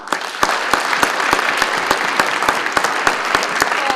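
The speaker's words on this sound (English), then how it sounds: "give, seems probably a little bit weird, but a round of applause both for them and for everyone in the room" Applause from an audience at a college commitment ceremony, a dense steady patter of many hands with sharper individual claps standing out, loud and sustained throughout with no talk over it.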